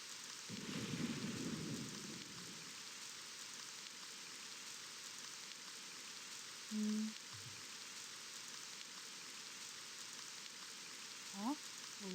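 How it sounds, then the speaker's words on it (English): Steady rain hisses through a thunderstorm in the video game Witch's Heart, with a low rumble of thunder early on and a few faint thuds later, continuous and fairly quiet. "It was a stormy night several hundred years ago."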